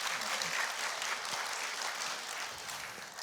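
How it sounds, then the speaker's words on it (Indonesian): An audience applauds steadily for the chair candidates at the third debate for general chair of BPP HIPMI 2026, a dense, even patter of many hands sustained at moderate, slightly distant loudness. "Boleh tepuk tangannya untuk para calon ketua umum."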